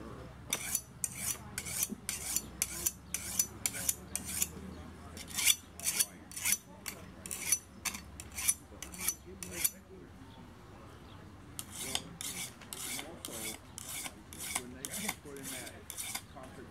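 A hand file rasps across a tool edge to sharpen its top side, in a steady rhythm of short, sharp strokes that pause briefly midway and then resume, with soft talk faintly underneath.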